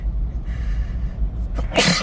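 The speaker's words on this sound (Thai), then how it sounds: "ป๊บหนึ่งนะครับจะจาม" A man sneezes once, loudly and close, near the end while driving a Ford Ranger Sport, after a quiet stretch of road and cabin hum.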